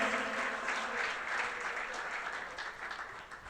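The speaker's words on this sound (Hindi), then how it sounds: "एक बार जोरदार तालियों से उनका हार्दिक स्वागत करें हम।" Audience applause welcoming a speaker at a youth festival talk, a quiet but dense patter of clapping that swells slightly and then tapers off over a few seconds, with no talking.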